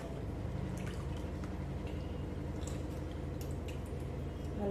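Meat soaked in salt, water and vinegar is drained, with a continuous wet trickle and dripping of liquid, close and steady, alone without talk.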